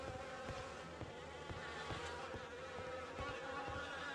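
Insects buzz in The Fidelio Incident video game, a steady, continuous swarm-like drone that fills the whole stretch with no talking over it.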